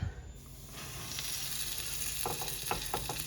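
Ukrainian chicken cutlets hit a preheated frying pan, and a steady close sizzle and crackle builds and holds with a few sharper pops near the end, no voices.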